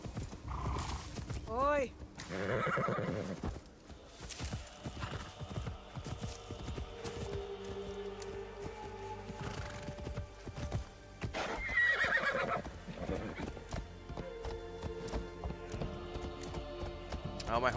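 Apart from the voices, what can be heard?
horse hooves and whinnying in Assassin's Creed Shadows video game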